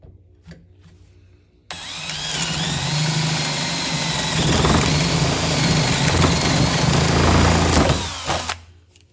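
A power drill bores a 1-inch hole through wood: the motor whirs up abruptly, then grinds steadily as the bit chews through for about six seconds, loud and close, before spinning down.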